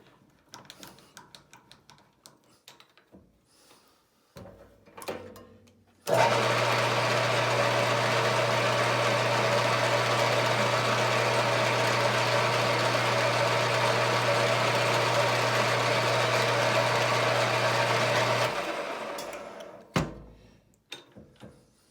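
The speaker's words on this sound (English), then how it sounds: "then just have to cut my spring to size" A spring being cut to size on a workshop machine: a loud, steady mechanical whine with a low hum starts abruptly, runs about twelve seconds and then stops, with quiet clatter before and after.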